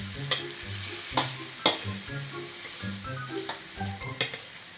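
Shrimp stir-fry in a pan over medium heat, a steady sizzle broken by repeated sharp scrapes and clanks of a utensil against the pan.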